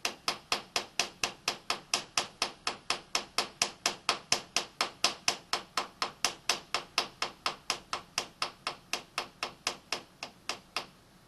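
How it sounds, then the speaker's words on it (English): Sharp, evenly spaced taps on a milling machine vise, around forty crisp knocks in a steady rhythm, close and loud with nothing else heard. "And you can see while I'm tapping on the vise,"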